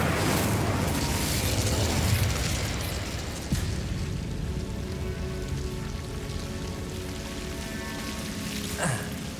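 A roaring, crackling burst from an Incendio fire spell in Hogwarts Legacy fills the opening seconds, then settles into a softer, steady rumble with a few small pops.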